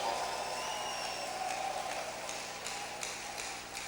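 A church congregation claps in praise during a bilingual service in a large auditorium, producing a dense, steady wash of applause from a big crowd heard at a distance with no other sound.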